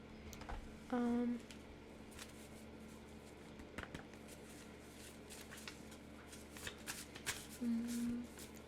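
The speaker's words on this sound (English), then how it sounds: "Make sure you guys see me shuffling." Quick riffling bursts of tarot cards being shuffled repeat near and clear, with a faint steady hum and a brief voice underneath.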